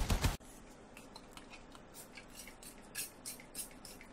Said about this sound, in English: That's me spraying water.